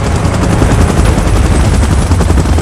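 Helicopter in the PUBG Mobile game during a Godzilla vs. Kong event, a loud, dense rotor thrum with rapid pulsing chops that runs without a break and is mixed with gunfire-like crackle.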